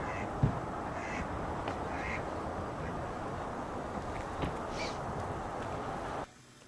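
Geese on a pond give several short, scattered honks and calls over steady outdoor ambience, some close and some farther off.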